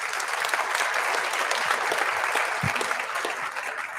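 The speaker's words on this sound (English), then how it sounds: "a round of applause for Mrs. Emily Shire, our high school accompanist" Steady applause from a school concert audience at a high school band and choir concert, honoring the accompanist; dense, even clapping fills the whole stretch without pause, moderately near.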